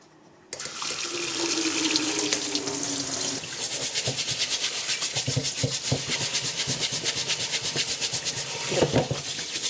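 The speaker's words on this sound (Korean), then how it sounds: "요거를 솔로 흐르는 물에 깨끗하게 닦아주시면 돼요." A jar lid is scrubbed with a brush under a running kitchen tap: a steady rush of water pours into a sink, joined midway by quick, rhythmic brushing strokes, close and clear.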